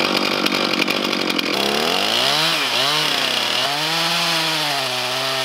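Chainsaw biting into a tough new keel timber for a 1910 wooden sailboat, loud and close, with a ragged cutting roar that shifts into a wavering engine whine as the load and speed change.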